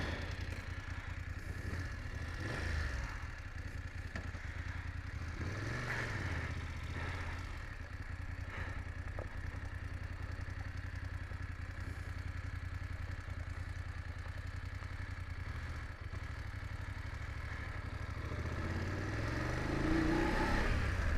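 A BMW F850GSA adventure motorcycle running steadily while ridden, its engine drone and wind noise continuous throughout with occasional revving and rattling clatter, fairly loud and close.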